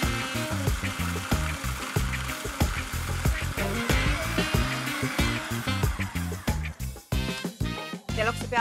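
Food processor whizzing Maltesers into crumbs, a loud choppy whirring with rapid rattling pulses as the chocolate balls break up, close by and uneven throughout.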